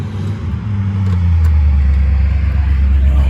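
An engine with a valve in need of adjustment, a deep steady low rumble that settles into a loud idle after about a second, heard close with no talk.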